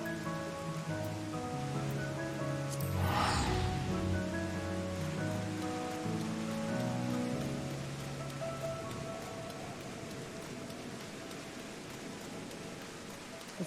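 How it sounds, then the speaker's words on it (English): Steady rainfall in the Final Fantasy XIV video game world, a soft continuous hiss of drops on surfaces that carries throughout, with game music tones layered underneath and no talking. "It's so rainy here."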